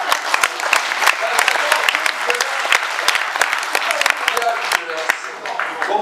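Audience applause fills a live comedy show in Lyon, a dense, steady clapping from a large crowd that holds for several seconds before thinning slightly at the end.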